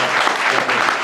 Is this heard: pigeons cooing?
no